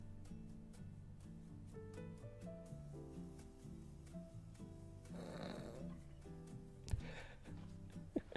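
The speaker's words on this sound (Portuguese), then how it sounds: "A gente tá ouvindo alguém roncando ou é impressão minha?" A Sim character in The Sims 4 snoring quietly, slow rhythmic snores over soft game music, with a few faint sharper sounds near the end.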